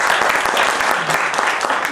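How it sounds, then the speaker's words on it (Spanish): Dense applause from an audience welcoming a lecture speaker, steady and close throughout a short burst with no talking over it. "vamos a darle un fuerte aplauso a nuestro expositor"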